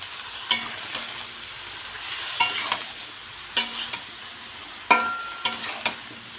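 Spoon stirring lentil and vegetable curry seasoned with salt and turmeric in a pan, soft sizzle under repeated scraping strokes and clinks against the metal, close up with no talking.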